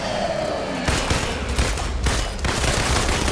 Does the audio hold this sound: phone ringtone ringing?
no